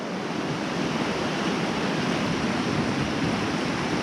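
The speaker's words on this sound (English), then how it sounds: "There's just so much water coming down here." A large volume of water rushes down in a steady, loud, broadband roar, close by with no voices.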